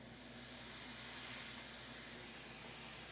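A hot skillet of chicken sauce piquante hisses steadily as white wine is poured in to deglaze it, a faint, even sizzle with a low hum beneath it and no talking.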